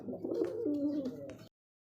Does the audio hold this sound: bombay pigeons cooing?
yes